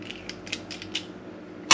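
A cookie scoop works through a caramel coconut candy mixture, its spring mechanism giving several quick, faint clicks and creaks close up, ending in one louder snap.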